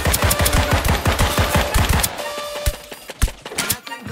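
Full-auto pistols fire in the video game Deceive Inc, a close, loud rapid burst of shots for about two seconds followed by scattered single shots.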